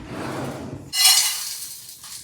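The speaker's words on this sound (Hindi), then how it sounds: "जरा पैन इसको किसी और बर्तन में लगा देती हूँ।" A kitchen pan clanks against another vessel as it is set inside it, one sharp metallic clatter after a stretch of quieter handling, close by and with no voices.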